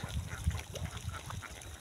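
A flock of ducks grazing in a field in Kula village, Maheshpur, Jhenaidah, gives off soft, irregular quacks and low murmuring calls, faint and somewhat distant, with no talk over them.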